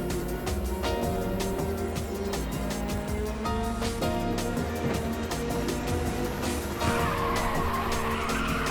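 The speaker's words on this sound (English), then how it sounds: "the only way to steer in a corner is by drifting" Tires squeal and skid continuously as a car drifts through corners in the PSP racing game Ridge Racer 2, a loud sustained screech over engine drone and game music.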